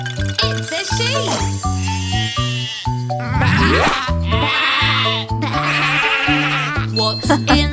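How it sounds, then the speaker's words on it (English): Cartoonish sheep bleats within a children's nursery rhyme song, short repeated baa calls set against bright music with jingling and a sung child-like voice. "It's a sheep."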